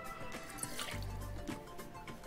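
Rye whiskey poured from a bottle into a cocktail mixing glass, a short close trickling and dripping of liquid, quiet and brief.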